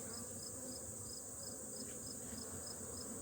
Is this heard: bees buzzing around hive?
yes